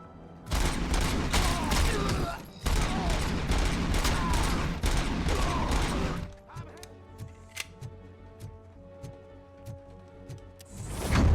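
Rapid, loud bursts of Auto 9 pistol fire in RoboCop: Rogue City, a dense string of close shots with a short pause, then quieter clicks and mechanical handling sounds before a final swell.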